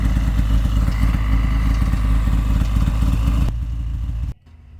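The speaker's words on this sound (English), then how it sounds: "One of the perks of living in the middle of nowhere is we get to snowmobile." A snowmobile engine roars loudly and steadily while riding, a close, continuous rough drone that drops in level and then cuts off abruptly near the end.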